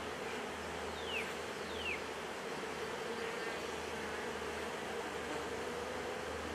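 Honeybees buzz in a continuous soft drone around an open hive box during comb work, with a few louder passes of individual bees near the listener and no talk.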